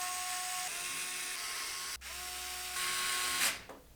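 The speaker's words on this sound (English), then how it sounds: "we're going to use 8 of the motherboard screws to secure the motherboard to the case." Motherboard screws being driven into the standoffs of an NZXT H6 Flow PC case with a small powered driver, a steady whirring tone that briefly pauses and resumes, close and alone.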